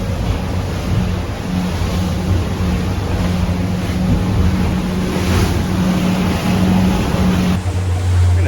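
Chris Craft motorboat running offshore near Miami, a steady engine drone under continuous wind and rushing water from waves against the hull, loud and close, with the engine note dropping near the end.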